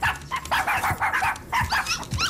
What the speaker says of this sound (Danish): Har du fått deg hunder også?